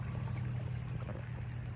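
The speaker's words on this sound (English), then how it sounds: "this is just in this creek running down" A small creek in East Palestine, Ohio, with an oily sheen on it, running steadily, a continuous close trickling and rushing of water with a low rumble underneath and no voices.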